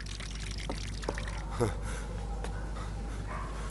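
Tap water pours and splashes over a person's head, a soft steady trickling stream heard faintly, with brief voices and small sounds over it.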